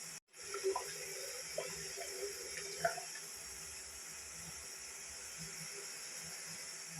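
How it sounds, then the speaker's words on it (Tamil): Water poured into a cooking pan, a brief splashing gush after a short knock at the start, fading into a steady faint hiss of running water and steam. "கொஞ்சம் தண்ணி சேர்த்துக்கிறேன்."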